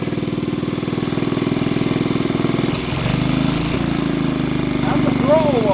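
An old 50cc BSA engine running steadily after its first start in years, with a fast, even putter close by that shifts in pitch partway through as the throttle is worked.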